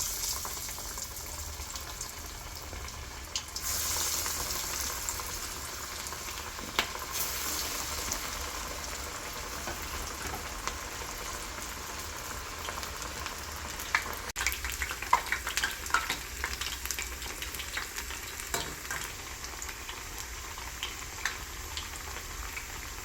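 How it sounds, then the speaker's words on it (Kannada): Chana dal vadas, small crisp lentil fritters, sizzle and bubble in hot oil with a steady, dense crackle that swells and pops irregularly throughout, close and fairly quiet, with no voices. "ಎಣ್ಣೆ ಕಾದಿದೆ, ಇವಾಗ ವಡೆ ಬಿಟ್ಕೊಳ್ಳಿ."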